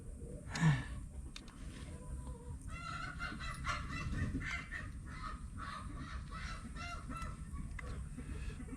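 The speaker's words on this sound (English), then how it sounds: "Oh, my chicken, they are misbehaving over there." Chickens squawk and cluck outdoors in Mbour, Senegal, one sharp loud squawk early followed by a steady run of softer clucking and chatter in the background, with no talking.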